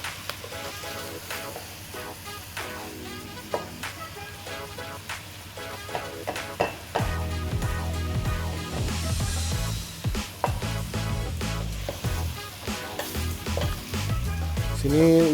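Ground spice paste for a chicken dish sizzles steadily in a hot pan, a continuous close frying crackle that grows louder and denser partway through, broken by scraping strokes of a stirring spoon.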